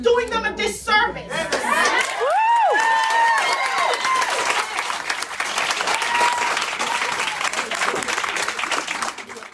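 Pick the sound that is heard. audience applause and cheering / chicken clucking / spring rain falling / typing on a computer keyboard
audience applause and cheering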